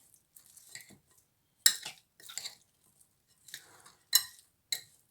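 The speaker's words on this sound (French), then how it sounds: "Et là, je remue tout." Beef marinade with oil and herbes de Provence being stirred in a bowl: sporadic close clinks and scrapes of a utensil against the dish, in short irregular bursts separated by silence.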